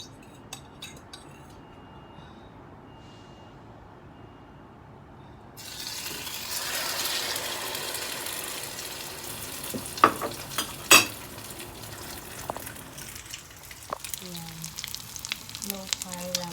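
Egg-, milk-, salt- and pepper-dipped bread fries over low heat in a home kitchen pan. A steady sizzle starts partway through, with a few utensil clinks and scrapes over it, and no talking.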